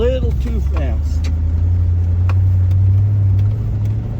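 A pickup truck drives past fast with a loud, steady road rumble that builds and holds, while people talk briefly over it at the start.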